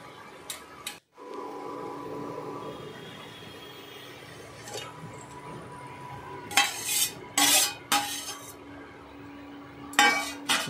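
Bhetki fish pieces are stirred in a spice gravy, with soft simmering under scraping and clattering of a utensil against the pan, several sharper knocks coming in bursts toward the end.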